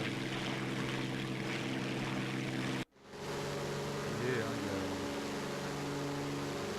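A biplane attack aircraft in War Thunder arcade mode drones with a steady engine hum. The sound cuts out briefly partway through and then resumes at a constant level.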